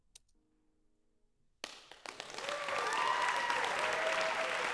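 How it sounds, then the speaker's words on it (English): Quieter recorded applause plays back in Logic Pro, opening with near silence and a few faint taps before a sudden burst of clapping that swells into a sustained, dense crowd applause. "Then scroll over here and listen to this applause."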